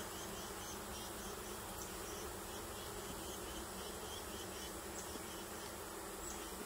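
Bees buzzing steadily around a hive being handled, a dense continuous insect drone close to the microphone throughout, with no voices.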